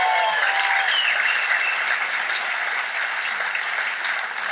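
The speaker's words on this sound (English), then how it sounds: "Give me a round of applause, man." An audience breaks into a steady round of applause for a comedian who has just performed for the troops, dense clapping holding at an even, loud level throughout with no one speaking over it.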